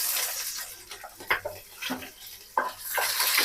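Chopped onions fry in hot oil with whole spices like cinnamon, cardamom and bay leaf, producing a close sizzle broken by irregular scraping and stirring bursts that rise and fall.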